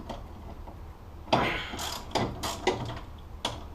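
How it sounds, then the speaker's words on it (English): Wrench loosening 14mm bolts on a tension arm during front suspension teardown of a Datsun 240Z, giving several sharp metallic ratchet clicks and clanks in bursts against quiet shop background. "So next you loosen the tension arms."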